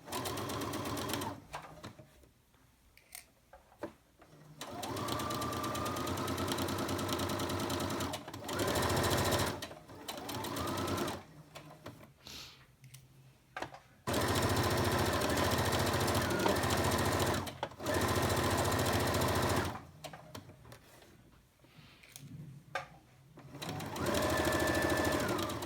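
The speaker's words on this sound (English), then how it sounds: "lower my needle, lower my presser foot, and just as I stitch along that edge" Sewing machine stitching along the edge of a quilt-as-you-go log cabin pillow cover, running in several steady bursts with short pauses between them, close and clear.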